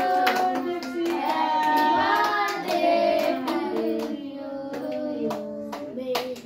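Group of people clapping by hand at a little girl's birthday celebration, with steady rhythmic claps close by throughout, mixed with voices singing along.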